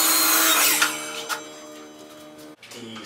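A power saw cuts wood for a golf cart deck, a bright whining buzz that fades as the blade winds down, followed by a short sharp clunk near the end.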